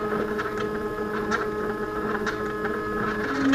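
A coil winder lays magnet wire onto a speaker field coil bobbin, running with a steady mechanical hum and soft rhythmic ticking, close and constant.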